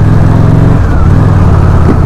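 Honda Shadow RS with a 745 cc V-twin engine cruising on a 25 mph road, a loud, close, continuous low engine drone with a brief shift in tone partway through, heard over wind rush.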